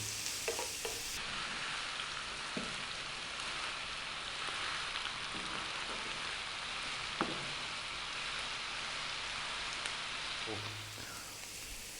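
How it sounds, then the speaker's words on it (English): Carrots frying in a pan for carrot rice, a continuous close sizzle broken by occasional spoon clinks and scrapes as they are stirred around. "we're going to go for about 4 to 5 minutes stirring this around"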